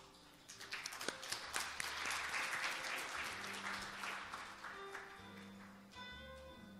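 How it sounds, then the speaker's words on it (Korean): Audience applause welcoming the EU ambassador to the stage at a climate action conference in a hall, a steady wash of clapping that swells and then fades out over several seconds. "대사님을 박수로 환영해 주십시오."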